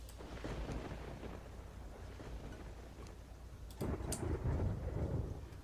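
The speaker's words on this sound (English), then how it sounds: "Oh, acid rain tier 2." Thunderstorm during the tier 2 acid rain event in Terraria Calamity: steady rain hiss with rolling thunder that swells louder near the end, no voices.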